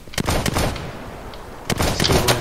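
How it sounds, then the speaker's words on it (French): Gunfire in a Minecraft apocalypse game: a few sharp, loud shots crack out in quick succession, followed by a pause and then another cluster of shots. "Oh mais ça tire! Ça tire de là-bas!"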